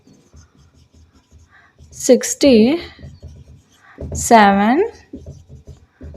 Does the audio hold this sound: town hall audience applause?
no